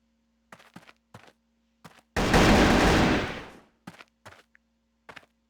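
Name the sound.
gunfire in Crossfire video game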